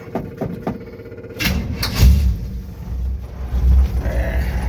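A 1957 Chevy 210 engine cold starts with a few cranking sounds, catches with a loud burst and settles into a rough, rumbling idle with a slight exhaust leak.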